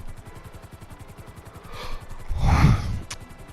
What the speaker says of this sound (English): I'm sorry I'm yawning, guys.